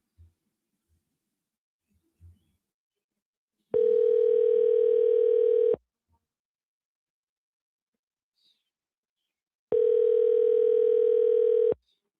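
Two long, steady telephone dial tones sound while a call is placed back to a 386 area-code number, each lasting about two seconds with a pause between and a few faint clicks before.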